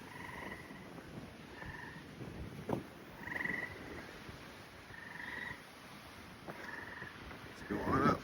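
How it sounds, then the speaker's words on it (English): Frogs near a fire tower in the White Mountains of New Hampshire give repeated short trilling croaks at regular intervals in a quiet outdoor setting, with light wind and a brief voice near the end. "Get those frogs."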